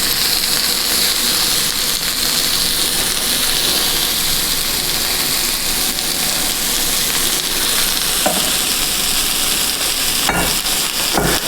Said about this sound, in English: slap it right onto this cast iron. You get that nice little sizzle.